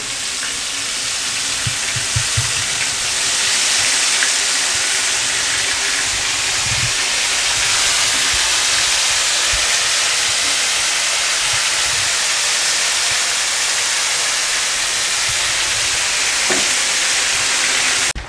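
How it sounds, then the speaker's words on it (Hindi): Fish frying in hot oil for guests fills the scene with a loud, continuous sizzling hiss that barely varies, with a few faint knocks and scrapes of cooking utensils underneath. "फिश फ्राई करते हैं उनके लिए"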